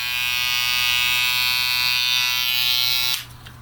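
A Boosted electric hair trimmer buzzes loudly and steadily at close range with a bright, whiny motor tone for about three seconds, then cuts off abruptly, leaving only faint background noise.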